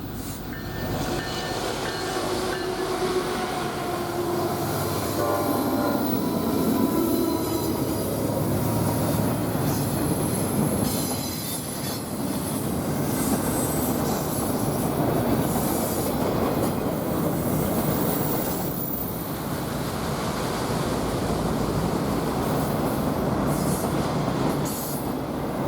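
A manifest freight train led by locomotives rolls past in Cheyenne, Wyoming, a loud, sustained rumble of wheels and cars with squealing flanges and clattering rail joints.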